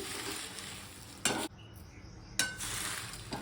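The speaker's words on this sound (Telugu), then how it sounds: "కరివేపాకు కూడా మొత్తము ఇలా వేసేసుకుందాం వేసి బాగా కలుపుదాం" Dried curry leaves are stirred in a hot pan off the heat, giving a crisp, rustling scrape with two louder clanks of the utensil against the pan.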